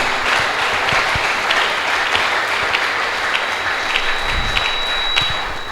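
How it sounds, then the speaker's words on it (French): A church congregation applauding during a Sunday worship service, dense sustained clapping from many hands filling the space at a steady level from start to finish. "Nous disons Amen et nous t'acclamons Seigneur Jésus."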